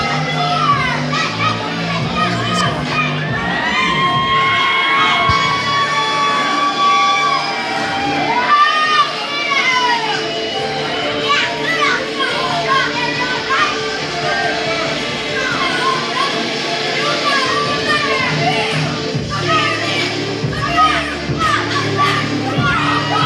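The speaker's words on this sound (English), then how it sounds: "This crowd showing nothing but love for the Voodoo Witch Doctor Kuda" A wrestling crowd at an XWE heavyweight championship event cheers and whoops steadily as the champion comes out. The loud, sustained crowd noise lasts throughout, with commentary over it.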